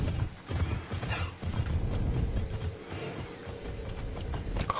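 Horse hooves clip-clop steadily in Immortals Fenyx Rising on Switch, with whinnying neighs over the rhythmic steps in a forest area, loud and close with no talk.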